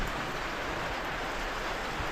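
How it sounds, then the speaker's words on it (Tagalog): Rain falling outdoors as a steady, close, broadband patter that holds evenly throughout, with no talk over it. "Umuulan pa rito."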